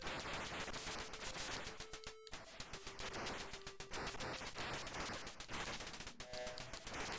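Rapid, repeated shots fire in the arcade shooter Vulgus, a stream of crackling blasts with brief electronic tones mixed in, steady and fairly faint throughout.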